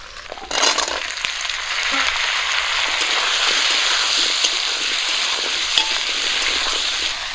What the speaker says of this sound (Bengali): সব কিছু খুব ভালো করে ভেজে নিয়েছি এখন কচু আর আলু দিয়ে দেবো